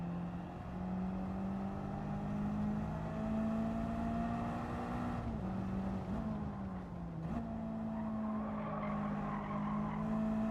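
Car drifting in Gran Turismo 7 during an online race, with a sustained tonal tire squeal over a steady engine drone that dips and shifts pitch midway, continuous and fairly loud throughout.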